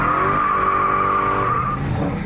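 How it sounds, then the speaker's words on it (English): A Dodge Hellcat spins a victory donut, its tires squealing in one loud, sustained, steady screech over engine roar, easing off only at the very end. "Victory donut."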